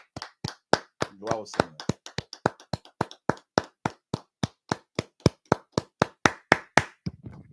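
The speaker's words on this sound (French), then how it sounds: "on va lui donner les acclamations" A single pair of hands claps in a steady, even rhythm, about four sharp, close claps per second, while a voice briefly speaks over the start.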